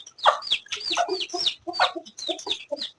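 Hens and a rooster cluck and squawk in quick, overlapping bursts among chicks, close and fairly loud, with a busy irregular rhythm and no talking.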